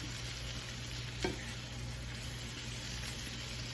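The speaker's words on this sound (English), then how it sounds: "I'm gonna get them just a little bit more brown. So I'm gonna stop stirring them." Food browns in a frying pan with a steady close sizzle while it is stirred, one brief scrape of the utensil against the pan standing out early on, with no voices.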